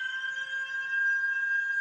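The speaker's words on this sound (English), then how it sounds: "That siren is really weird." Emergency alert siren in the Hatoful Boyfriend video game, a steady sustained electronic tone with layered harmonics holding at even loudness throughout, heard alone without talk.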